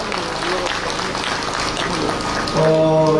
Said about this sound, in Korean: 시장 상인 여러분, 감사 잘 되시라고 여러분들 큰 격려의 박수 한번 보내주시기 바라겠습니다.